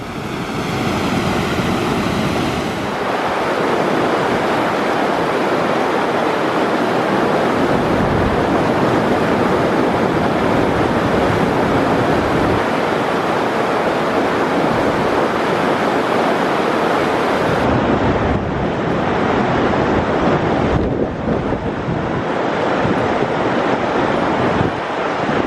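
River water rushes over rapids along the Berens River, a loud, continuous broadband roar that barely varies across the whole stretch, close by, with no voices.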